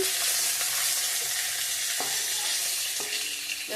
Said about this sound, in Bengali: বন্ধুরা দেখতে পাচ্ছ মাছগুলো ভেজে নিচ্ছি